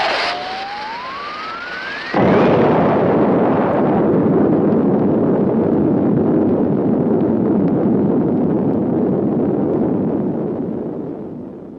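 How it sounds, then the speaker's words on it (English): A loud explosion from a 1957 science-fiction film about a saucer invasion bursts in after about two seconds, following a rising tone, then rolls on as a sustained roaring rumble that slowly fades toward the end. "Looks like there's been some kind of an explosion over in Pelham Woods."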